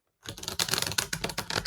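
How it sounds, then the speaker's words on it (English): A tarot deck is shuffled by hand at close range, a continuous dense riffling and papery flutter of cards that starts abruptly and runs without pause. "I'm shuffling the cards."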